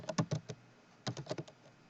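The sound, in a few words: typing on a computer keyboard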